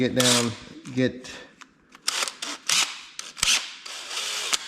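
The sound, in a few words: removing Kawasaki Ninja engine casing screws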